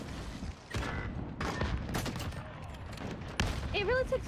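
Sniper rifle fire in a first-person shooter game sounds as a few sharp, loud shots with ringing tails, set against busy in-game noise and effects.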